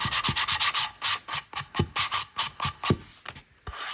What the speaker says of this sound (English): So now I'm just going to go over the edges and give a little distress.